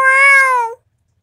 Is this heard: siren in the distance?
no